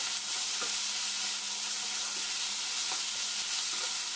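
Cinnamon and crushed cardamom frying in hot oil, a steady close hissing sizzle with faint stirring taps, alone without talk.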